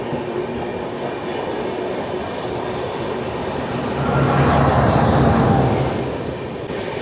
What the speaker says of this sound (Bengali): আমাদের ট্রেন ছেড়ে দিল ডালখোলা স্টেশন